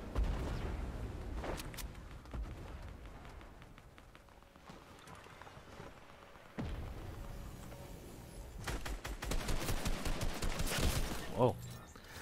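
Gunfire in the video game Fortnite crackles in scattered bursts and rapid volleys over busy game sound, growing denser toward the end.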